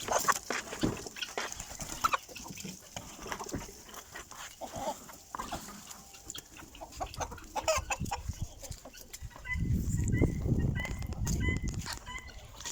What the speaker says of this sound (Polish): Kury już wypuszczam.